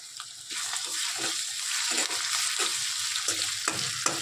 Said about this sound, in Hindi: अच्छे से फ्राई हो रहे हैं